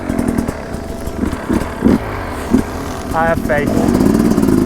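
Enduro motorcycle on a winter trail chugging and revving in first gear with a gentle throttle, uneven engine pulses up close, while a rider speaks over it.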